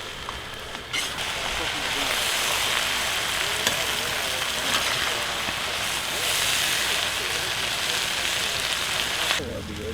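Food browns in a hot pan with a loud, continuous sizzle and crackle that runs steadily throughout, close up.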